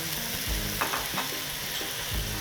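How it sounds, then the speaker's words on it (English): Mussels dropped into a hot oiled pan with herbs and saffron nearby, giving a steady close sizzle with a few soft clatters and stirring bumps, no voices. "Next, we'll add our mussels,"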